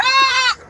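A single goat bleats loudly and close by at a livestock market, one sustained wavering cry lasting about half a second, then cut off to quiet market background.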